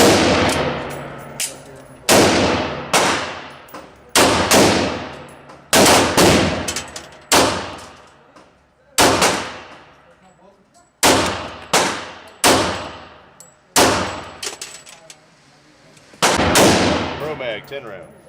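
A Remington R1 1911 pistol fires single shots from a seven-round magazine, sharp loud reports spaced roughly two seconds apart, each trailing off in a short echo.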